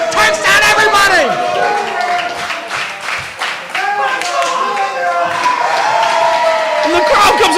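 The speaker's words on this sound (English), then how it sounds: "And the crowd comes alive, Ron." Wrestling crowd at an RWA Hype event, a dense roar of cheering, clapping and whistles filling the hall throughout, loud and continuous with voices layered in.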